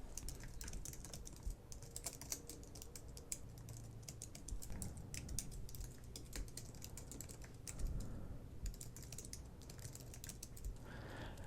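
Rapid, continuous typing on a computer keyboard as code is entered, with dense clicky keystrokes throughout, quiet and close with no talking.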